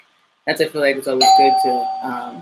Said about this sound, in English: sorry for that doorbell